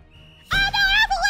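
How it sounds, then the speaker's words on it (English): A player's whistle blown in a video game sounds abruptly after a quiet lead-in, a loud, bright, wavering tone that holds for about a second with a short break. "Let's see what my whistle does."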